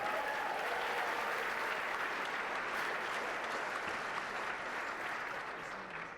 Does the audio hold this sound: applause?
yes